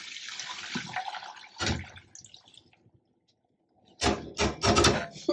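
Cold tap water runs while a dyed hankie is rinsed in a sink, a loud close splashing rush that breaks off into near silence, then returns in strong gushing bursts.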